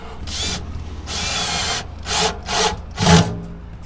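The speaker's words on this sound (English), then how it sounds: "The drill having a hard time getting in there." A power drill grinds loudly into wood in several close bursts, some long and steady, others short and straining, with no talking.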